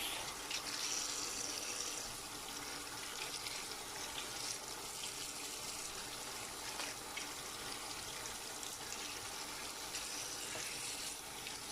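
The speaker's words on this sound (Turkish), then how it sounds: "Bunları öncelikle güzelce yıkıyoruz." Steady running tap water splashing continuously, with faint handling sounds as garden vegetables are rinsed under the stream.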